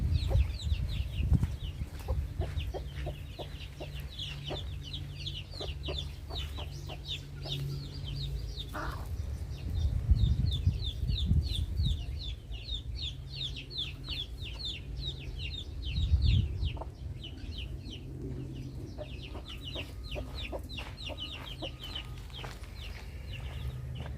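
Gold Brahma chicks and larger adult chickens cluck and peep continuously while crowding around scattered feed outdoors, with bursts of high chirps over a steady low rumble of scratching and movement, nearby and fairly loud.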